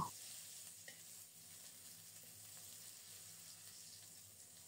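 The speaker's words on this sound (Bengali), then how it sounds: "এবার কাঁচকলাগুলো ওভাবে ভেজে নেব।" Green banana slices fry in oil in a pan with a faint, steady sizzle heard from close range, quiet and continuous, with no talking.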